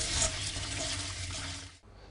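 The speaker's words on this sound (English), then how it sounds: "I'm just going to rinse them under cold water and really make sure I get rid of all that grit." Leeks are rinsed under a cold running kitchen tap, with a steady, close splashing gush of water that cuts off abruptly near the end.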